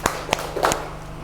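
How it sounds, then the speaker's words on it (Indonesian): Children clap during an ice-breaking game in a classroom: four sharp, separate claps in quick succession, near and distinct, with quiet after them. "Bertepuk tangan"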